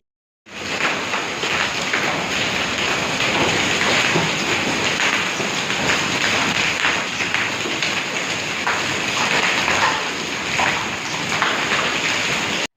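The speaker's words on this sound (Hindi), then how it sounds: "इतनी तेज़ी से बारिश नहीं आई जितनी तेज़ी से ओले आ रहे थे" Hail storm with heavy rain in Multan, a loud dense continuous clatter and hiss of falling ice and rain that starts abruptly and holds steady throughout, no voices.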